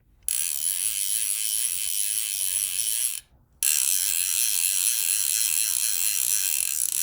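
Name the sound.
Hardy Perfect fly reel ratchet clicking as line is pulled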